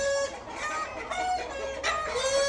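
Rooster and hens squabbling in a fighting-cock yard, with loud continuous clucking and agitated squawks running through the whole stretch, close by and without talk.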